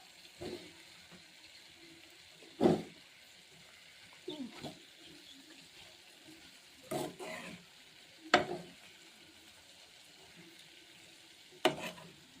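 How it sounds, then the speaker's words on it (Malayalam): Beetroot pickle is stirred with spice powder in a pan. A handful of separate scrapes and clatters land at uneven intervals, close but fairly soft, with a gentle sizzle in the background between strokes. "ഇനി നമുക്കൊന്ന് ഇളക്കി കൊടുക്കാം."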